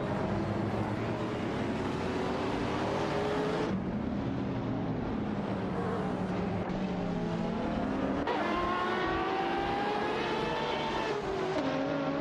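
Race cars in a racing game, a Chevrolet Corvette and a McLaren 570S among them, roar steadily at full throttle, with rising and falling engine pitch as they shift gears and pass each other closely.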